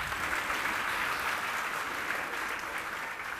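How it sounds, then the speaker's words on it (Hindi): Students at a JEE coaching campus gathering clap for a young participant, a steady dense round of applause from the crowd, fairly even in loudness throughout the short stretch. "सौरभ के लिए ताली बजाए भाई"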